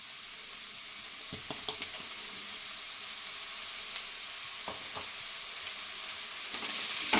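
Sliced mushrooms fry in about two tablespoons of oil for an aloo mushroom gravy, a steady hissing sizzle with a few scattered spoon taps and stirs, growing slightly louder at the end, no talking.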